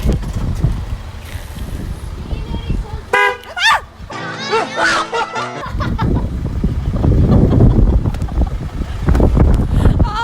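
A car honks its horn in a few short toots while driving off, set against loud wind buffeting and scattered chatter and laughter from people nearby.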